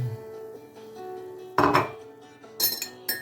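A utensil stirs cereal in a pot of boiling water, giving a few separate metallic clinks and scrapes close by, with louder bursts around the middle and near the end over a quiet simmering background.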